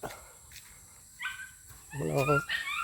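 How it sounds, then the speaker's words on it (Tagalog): Short dog yelps and whimpering barks outdoors among lanzones trees, a couple of brief bursts then a louder whining run near the end, fairly close. "Ang ingay itong mga aso."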